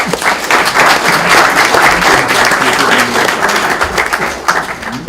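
Loud, dense applause from a group greeting the Côte d'Ivoire football team at the CHAN 2022 quarter-final stage, steady and close throughout with a few cheers mixed in.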